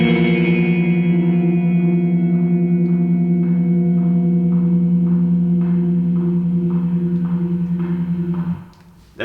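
A distorted guitar chord raked slowly up from the low strings in a black metal style, ringing loud and sustained for several seconds over faint metronome clicks, then cut off.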